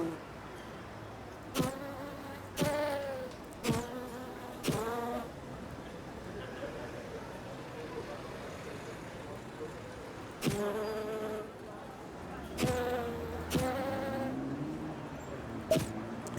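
Video-game bees buzz around a small candy stand in repeated short, drawn-out bursts: several in quick succession, a pause, then another cluster, fairly close and moderately loud.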